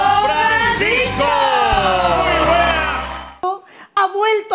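A studio audience on a variety show greets the host with loud cheering, whooping and yelling for about three seconds, then cuts abruptly to voices speaking.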